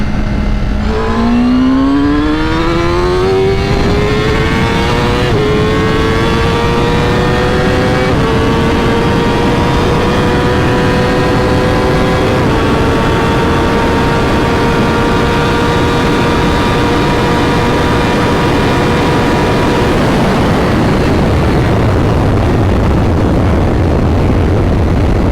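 Honda CBR1000RR-R SP sportbike with a flashed ECU, riding mode P5, accelerating flat out from 60 to 130 mph: a loud, close engine wail rising in pitch through several upshifts, then easing off near the end.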